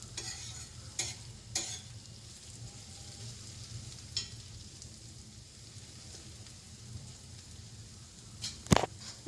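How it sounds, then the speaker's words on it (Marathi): A spoon mashes cooking vegetables in a pan over a soft sizzle, with a few sharp scraping clacks against the metal, close but fairly quiet. "छान भाज्या ज्या आहेत त्या मी अशा चमच्याने थोड्या मॅश करून घेते"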